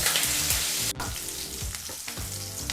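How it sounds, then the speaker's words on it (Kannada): Green chillies and curry leaves fry on low flame for a sambar, sizzling and crackling steadily while a spoon scrapes and stirs the pan a few times in quick strokes. "ಈಗ ಈ ಪದಾರ್ಥನೆಲ್ಲ ಒಂದು ಮೂವತ್ತರಿಂದ ನಲವತ್ತು ಸೆಕೆಂಡು ಲೋ ಫ್ಲೇಮಲ್ಲೇ ಚೆನ್ನಾಗಿ ಫ್ರೈ ಮಾಡ್ಕೋಬೇಕಾಗತ್ತೆ"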